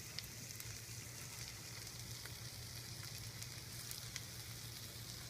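Moose heart pieces sear in a frying pan with a steady, soft sizzle and fine crackling pops throughout, quiet and continuous with no voices.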